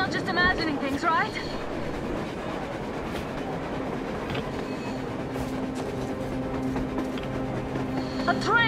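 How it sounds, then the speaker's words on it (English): A train rumbles steadily across the surface in the post-apocalyptic game Metro Exodus, a low continuous rolling drone with a faint rhythmic clatter under game music and bursts of higher tones. "A train! A damn train on the surface!"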